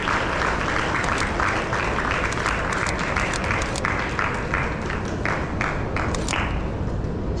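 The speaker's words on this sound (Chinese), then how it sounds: "给我们辛苦的工作人员一个热烈掌声" A seated audience at a board-game money and math education event in Taiwan gives the staff sustained applause, a dense patter of many hands clapping throughout, with some voices mixed in.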